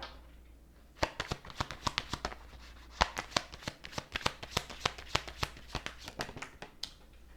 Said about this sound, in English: these cards are just flying everywhere